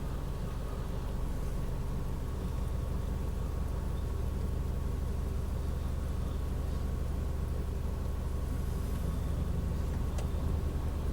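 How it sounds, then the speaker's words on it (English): Steady stream of cars passing on a road late at night, heard as a continuous broadband traffic rumble with engine drone, moderately loud and unbroken, no talking. "a lot of cars out tonight"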